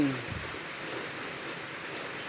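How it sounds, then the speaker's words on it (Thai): Light rain falls steadily at a Buddhist temple in Thailand, an even close patter of drops across the whole stretch with no voices. "ฝนก็กำลังตกที่วัดหนองฟาน"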